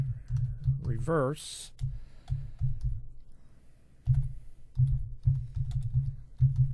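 Someone types a search query on a computer keyboard while someone speaks over it. The keys click in short, quick bursts with pauses between them, close and fairly quiet.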